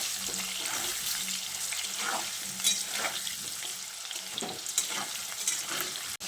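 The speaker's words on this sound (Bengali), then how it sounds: "এবার আলুগুলোকেও লালচে করে ভেজে নিতে হবে।" Diced medium potatoes frying in oil for a cauliflower dish, giving a steady sizzle with repeated scraping stirs and occasional spoon knocks against the pan, close up and without speech.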